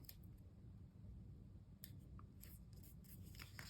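Scissors snip a paper rose to be used in a planner. A few quiet, crisp cuts come in small bursts over faint room hush, with no talking.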